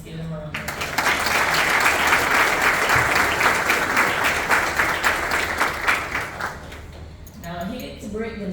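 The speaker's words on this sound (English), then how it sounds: "Just give them a round of applause." An audience at a high school baccalaureate ceremony bursts into loud, sustained applause that lasts several seconds before tapering off, with a voice speaking briefly near the end.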